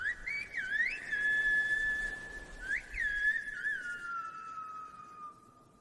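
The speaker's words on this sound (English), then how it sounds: "it's actually a whole way of speaking using whistles. It's called el silbo, the whistle" Whistled speech of the el silbo kind gives one clear, loud whistled phrase of gliding and steady pitches with short breaks, close and alone, fading at the end.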